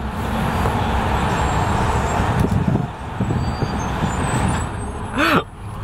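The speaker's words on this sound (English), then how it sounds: "There's hella traffic." Heavy, congested street traffic in New York near the Lincoln Tunnel, a loud continuous roar of idling trucks, buses and cars with engine rumble, a sharp air brake hiss near the end and no talking.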